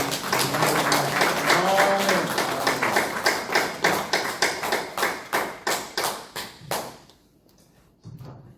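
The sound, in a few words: applause in church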